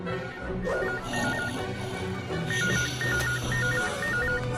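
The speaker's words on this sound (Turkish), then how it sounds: "Necati'nin telefonu burada bir yerde çalıyor." A telephone rings with a repeating electronic trill over music-like background sound, moderately loud and steady.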